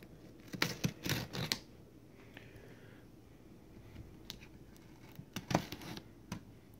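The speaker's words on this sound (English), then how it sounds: "Get all these pieces of tape cut." A Harbor Freight utility knife slices through packing tape on a cardboard box, giving a few sharp, close scratchy rips in two bursts separated by a quiet pause.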